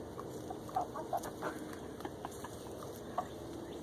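Chickens out in a yard give faint, scattered clucks, a few brief calls rising over a steady outdoor background, with no talking.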